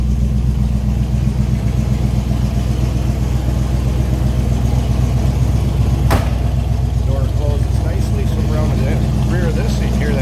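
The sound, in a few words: muscle car engine idling rumble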